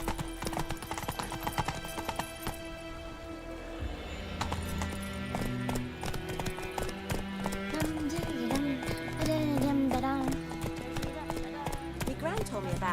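Steady clip-clopping of horse hooves in The Witcher video game, with a horse snorting and whinnying, under spoken dialogue and background game music.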